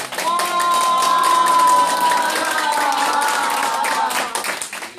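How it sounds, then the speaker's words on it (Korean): An elderly audience at a senior welfare center lecture claps together in a loud, continuous round, mixed with some cheering and crowd voices, fading near the end. "다시 한 번 감동 박수 한번 쳐주실 거예요"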